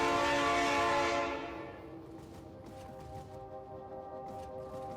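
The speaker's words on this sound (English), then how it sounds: "it's a sound effect train" Train sound effect: a loud, sustained horn chord that fades after about a second and a half, leaving a steady rumbling rail noise with faint clatter underneath.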